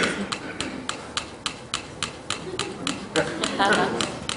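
Two small metronomes set to their fastest tempo tick rapidly on a table, sharp regular clicks close by with their beats slightly out of step, over faint room background.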